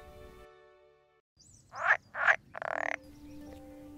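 A northern pool frog croaks nearby in a few quick, loud bursts, two short grunts followed by a rapid rattling call, set against a quiet outdoor background with a faint hum.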